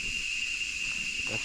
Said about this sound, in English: Those are howler monkeys.